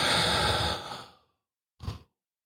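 A big deep breath during a grief and loss tapping exercise: one long, loud breathy exhale fades away over about a second, then after a short silence a brief softer breath follows, close and alone.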